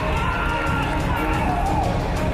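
A British wrestling event crowd roars with a dense, steady wash of cheering and hubbub filling the hall. It stays loud and continuous throughout.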